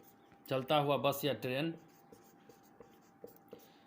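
Chalk or marker writing on a board in a physics lesson, faint tapping strokes that follow a brief burst of someone talking, close in a quiet room.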